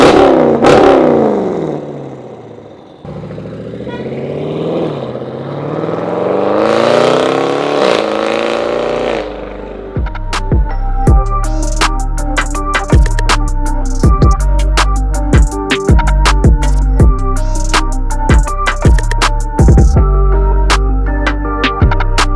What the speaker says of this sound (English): I also love the exhaust, Meisterschaft, German made stuff.